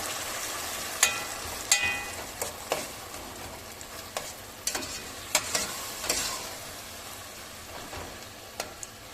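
Tomato paste sauce simmering in a pan, with a steady soft sizzle under repeated sharp scraping taps of a spoon stirring against the pan at irregular intervals, close and alone.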